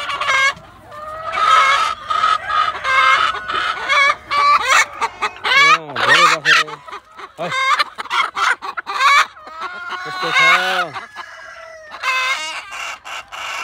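Local chickens on a poultry farm cluck loudly and busily at close range, with bursts of squawking and a rooster crowing among them.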